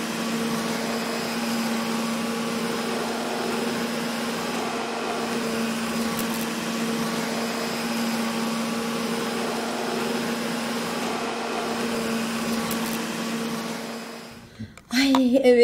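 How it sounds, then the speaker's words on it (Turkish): A vacuum cleaner drones steadily with a constant motor hum, then cuts off abruptly near the end. "elektrik süpürgesiyle de şöyle kalan son tozları alalım"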